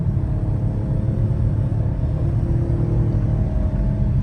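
Steady low rumble of a Dodge Challenger SXT V6 exhaust with the mid muffler deleted, heard from inside the car at a constant cruising level with no talking.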